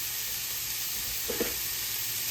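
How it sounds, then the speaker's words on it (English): Bacon sizzling in a hot pan for shrimp and grits, a steady broad hiss throughout with a brief louder burst of crackle midway as strips are laid in. "We got our bacon we're going to put in here."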